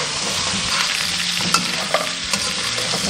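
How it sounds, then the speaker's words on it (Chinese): Duck pieces stir-fried in their own rendered fat in a wok, a steady loud sizzle broken by a few sharp spatula scrapes and clacks, with no voices. "那底下我们炒出这么多油了，然后给它倒掉一些起来，继续煸炒"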